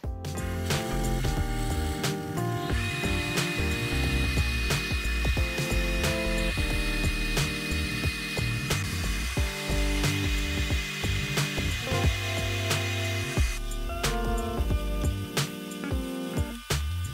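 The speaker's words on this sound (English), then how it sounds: "as soon as I press the drill press down" A drill press bores into a piece of wood held securely in a clamp, giving a steady, loud motor whine with grinding cutting noise that holds throughout, close up, with no talk.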